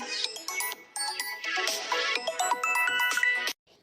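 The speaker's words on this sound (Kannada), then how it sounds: "ಯಾರ್ದೋ ಫೋನ್ ಬರ್ತಾ ಇದೆ, ಇರು." A mobile phone ringtone plays a bright, chiming electronic melody of quick repeated notes for about three and a half seconds, fairly clear and alone, then cuts off abruptly.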